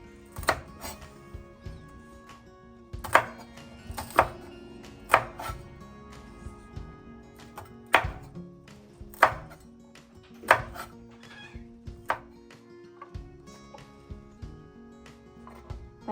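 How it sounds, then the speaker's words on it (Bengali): A knife chops green chillies on a board in sharp, separate thunks, a dozen or so strokes in an irregular rhythm, close and clear with little else around. "কাঁচা লঙ্কা কুচিয়ে"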